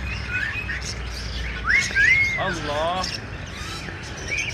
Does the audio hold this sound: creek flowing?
no